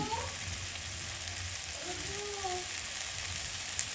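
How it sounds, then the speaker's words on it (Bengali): Mutton curry meat with spices sizzling and frying steadily in a pan, a continuous close hiss with faint stirring scrapes. "মাংসটি ভালো করে মশলাটি মিক্স করে কিছুক্ষণ কষিয়ে নিয়েছি"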